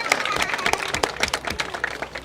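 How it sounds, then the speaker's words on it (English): A room full of people applauds at the Colorado universal preschool bill signing, brisk overlapping claps close by with a few cheers and murmurs in the crowd. "So everyone, if you could just give yourselves a round of applause."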